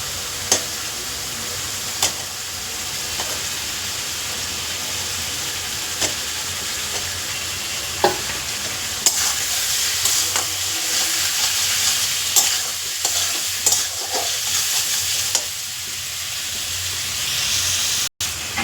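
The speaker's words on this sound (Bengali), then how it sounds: "খুব ভালো করে মশলাটা কষা করে এই সময় আলুগুলো সব দিয়ে রাখবো" Spice paste sautéing in oil with fried potatoes for a Bengali hilsa curry with taro and eggplant, giving a steady close sizzle and hiss broken by regular scraping stirs of a spatula in the pan, with no talking.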